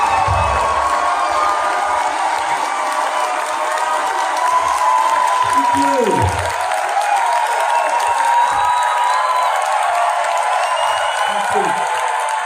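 A large, packed political rally crowd for Bernie Sanders applauds and cheers continuously, a loud steady roar of clapping and whoops with scattered shouts throughout.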